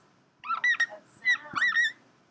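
A dry-erase marker squeaks across a whiteboard in a few short, high, strained strokes in a quiet room, heard alone and close by.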